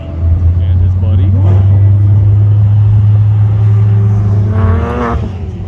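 A Porsche GT3 RS drives past among other cars, its engine rumbling steadily with a deep drone before a brief rev, while people talk nearby.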